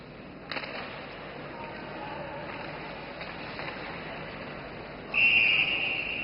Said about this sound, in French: Coup de sifflet, pourquoi?